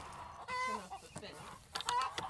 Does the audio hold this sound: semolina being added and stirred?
no